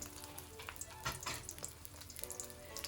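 Beaten eggs frying in a hot wok for shrimp fried rice, a steady fizzing sizzle with soft crackles and a brief louder burst partway through, close and unaccompanied by voices.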